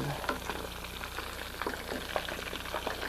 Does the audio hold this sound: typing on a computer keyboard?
no